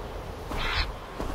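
A bird in Assassin's Creed Valhalla gives a short, harsh cawing screech over steady in-game ambience, one brief call standing out near the middle.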